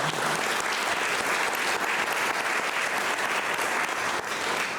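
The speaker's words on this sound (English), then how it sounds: "Big round of applause for them." A crowd at a live music event claps steadily in thanks to the organisers, a fairly quiet but continuous wash of many hands with no voices on top.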